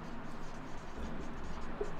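A teacher writes on a board during a live nursing class on epithelium tissue, with a faint, steady scratching of the marker or chalk over low room noise.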